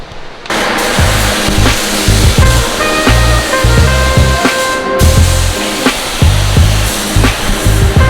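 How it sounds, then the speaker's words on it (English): Spray gun laying base coat paint onto a coupe, a loud continuous hissing rush that starts abruptly and keeps going in close, uneven bursts with a brief break midway, no talking. "Base coat is laid beautifully."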